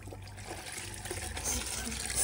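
Tap water runs into a basin, a steady close gush and trickle with a low hum underneath for a couple of seconds.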